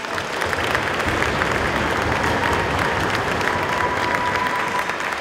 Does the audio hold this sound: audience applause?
yes